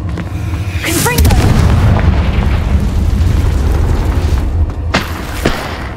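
A Confringo spell explosion in the video game Hogwarts Legacy: a loud booming blast rolls in early and rumbles on for several seconds, with a second sharp burst near the end.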